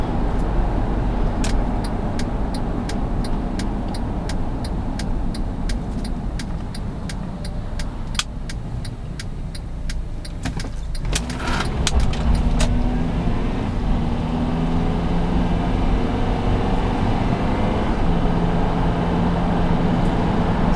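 A 2008 Honda CR-V EX-L cruises along a road, its steady engine and tire hum heard from inside the cabin, with a faint rhythmic ticking and a brief rattle midway.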